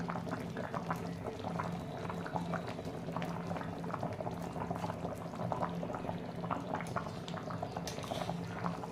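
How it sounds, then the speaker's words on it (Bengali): Fish roe curry made with rohu eggs bubbling steadily in a pot, a dense, continuous simmer with popping bursts throughout and no voices. "2 থেকে 3 মিনিট ফুটলেই হয়ে যাবে।"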